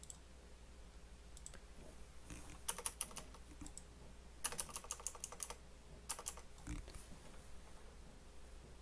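Quick bursts of keystrokes on a computer keyboard, soft and close in a quiet room, arriving in clusters separated by short pauses.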